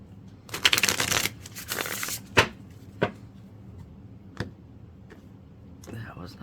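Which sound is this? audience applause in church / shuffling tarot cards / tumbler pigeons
shuffling tarot cards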